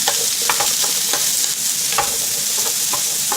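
Vegetables stir-fry in a frying pan, a loud, steady sizzle close by with light scraping taps from stirring throughout and no voices.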